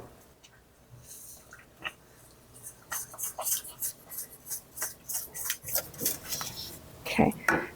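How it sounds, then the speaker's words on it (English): Whisk scraping and clinking in a pot as mayonnaise and milk are mixed into pumpkin butter, soft at first, then quick rhythmic strokes with wet squishing, close up and fairly quiet. "I'm gonna whisk in our mayonnaise and our milk"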